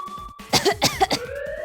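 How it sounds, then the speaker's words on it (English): A woman coughs hard several times in a quick burst, close and loud, over a faint steady background tone, in the video game 999: 9 Hours, 9 Persons, 9 Doors. "she's coughing so hard she can't even talk."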